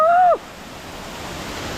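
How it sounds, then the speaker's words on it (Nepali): Rushing water at the Bahubali waterfall, heard as a steady, fairly loud broadband roar after a brief tonal sweep at the very start. "बब्बाल छ झरना।"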